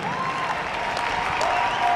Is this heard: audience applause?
yes